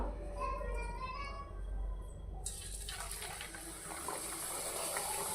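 Coconut burelu dough slides into hot frying oil in a kadai, setting off a sudden loud sizzle partway through that keeps hissing steadily while someone talks.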